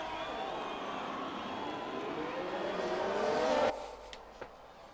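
Formula 1 race cars launch at the start of the Spanish Grand Prix, a dense, distant wail of engines climbing in pitch together before cutting off abruptly, followed by faint quiet ambience.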